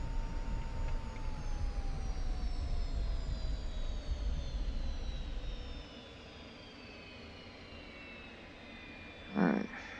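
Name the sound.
F-86F Sabre jet taking off down the runway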